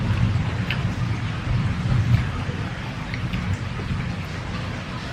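Rain falls in a steady heavy wash, loud and close, with a low rumbling undertone running through the downpour.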